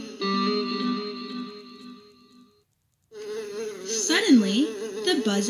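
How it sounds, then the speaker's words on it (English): A lazy fly buzzes in a hot barn, a droning hum that stops, then returns with wavering, swooping pitch, close and clear. "The only sound was the buzz of a lazy fly."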